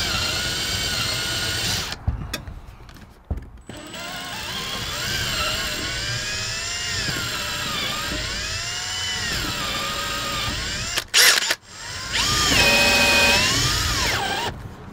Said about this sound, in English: So you need to drill a hole.